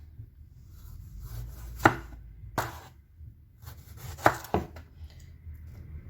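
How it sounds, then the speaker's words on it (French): A knife slices cucumber diagonally on a cutting board for a Vietnamese banh mi, giving four or five sharp, close chops spaced irregularly against a quiet background. "Moi, je vais faire des tranches en diagonale comme ça."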